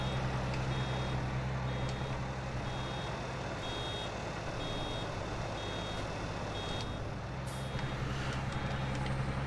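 In Farming Simulator 19, a baler's repeating electronic reversing beep sounds at regular intervals over a loud, constant engine rumble from a heavy vehicle.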